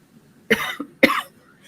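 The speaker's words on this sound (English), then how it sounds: "Excuse me, I didn't mean to cough in your ear," Two sharp coughs about half a second apart, close and fairly loud, with quiet between them.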